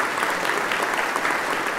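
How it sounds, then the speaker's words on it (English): A parish church congregation applauds warmly, an even wash of many hands clapping together throughout, moderately loud and unbroken. "Give them a wonderful round of applause."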